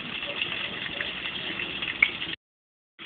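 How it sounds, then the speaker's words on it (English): A Brastemp Baby Mondial washing machine fills with water, a steady rushing gush of inflow that breaks off abruptly near the end, then resumes after a short silence. "it's boring to watch the washing machine filling"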